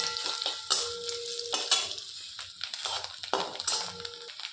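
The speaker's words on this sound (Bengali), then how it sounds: "নারকেলের টুকরোগুলো দিয়ে দেব। হালকাভাবে আমি একটু বাদামি করে ভেজে নেব।" Coconut pieces fry in lightly heated oil, a close sizzle broken by repeated scraping strokes of a spatula and metallic clinks against the pan.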